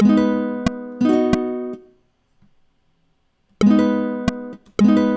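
Guitar chords strummed in bursts, a couple of quick strokes, a pause of near silence, then more strummed chords ringing out.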